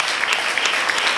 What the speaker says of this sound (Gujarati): તાળીઓ ચાલુ જ રહેવી જોઈએ આ લોકોને માટે.